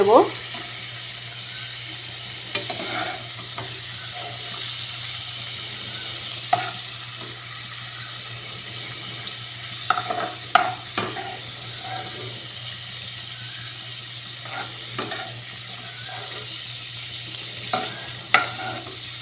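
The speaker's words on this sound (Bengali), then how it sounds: "এবার আমি চিংড়ি মাছ অল্প ভেজেছি চিংড়ি মাছগুলোকে এবার আমি একটা হাতার সাহায্যে তুলে" Prawns frying gently in oil for a green jackfruit dish, lifted out with a ladle: a low, soft sizzle with intermittent metallic clinks and scrapes of the ladle against the pan.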